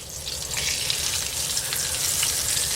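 Chicken fried steak frying in a pan of hot oil gives a loud, dense, steady sizzle and crackle that lasts the whole time, with no talking.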